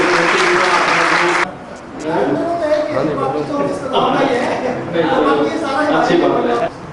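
Dense applause fills a student award ceremony in Haryana, loud and continuous at first, then giving way to an amplified announcer speaking over a murmuring hall.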